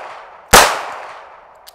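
A single close, loud shot from a Taurus 856 revolver at a shooting range, a sharp crack that rings out into a long, fading reverberant tail, followed by a faint small click.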